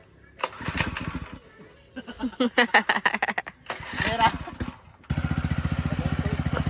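A small water pump engine is cranked in several sputtering bursts before it catches and settles into a steady, rapid chugging idle, heard close by.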